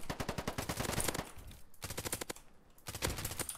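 Automatic flank weapon fire in the shooter game Polygon, rattling off in rapid close bursts with a brief pause between strings of shots.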